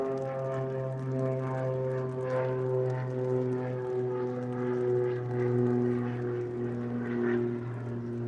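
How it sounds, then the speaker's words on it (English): A steady, droning engine hum with strong low harmonic tones, like a small propeller plane running and powering up at a distance, swelling gently. "I can see that there's another small plane taking off."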